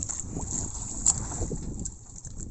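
Choppy sea waves wash and slap around a small fishing boat, a steady churning rush mixed with wind buffeting the microphone, no voices.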